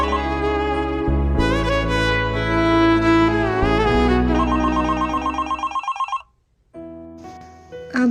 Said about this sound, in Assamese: ফোন এটা আহিছে বেডৰুমত ফোনটো আছে